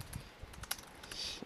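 Light, fast typing on a computer keyboard while composing an email, soft irregular key clicks close by at a low level, no voices.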